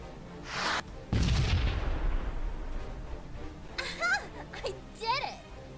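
Missiles launched in the space strategy video game Sunrider: a short whoosh, then a loud booming blast that rumbles and decays, followed by brief synthetic chirping effects, with a voice talking over parts of it.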